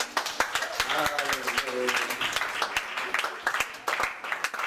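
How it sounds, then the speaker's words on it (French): Audience applause during a church service, a scattered burst of hand clapping with sharp individual claps, while voices talk over it throughout. "On va les applaudir."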